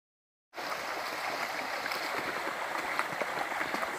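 A river flows steadily along the Bruce Trail, a continuous broadband rush of moving water that fades in at the start and then holds even and close, with no voices.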